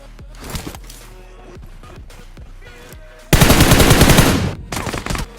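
Automatic gunfire in the mobile shooter BGMI, a loud burst of rapid shots after a few scattered single reports, followed by a shorter second burst, with faint game sounds between.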